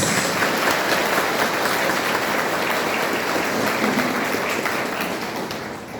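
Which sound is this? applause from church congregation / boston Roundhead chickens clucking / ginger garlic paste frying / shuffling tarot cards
applause from church congregation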